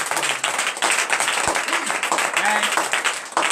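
Crowd applause and cheering at a morning prayer service in Benin, a dense, steady wash of clapping that fills the whole stretch with a few brief whistle-like tones on top.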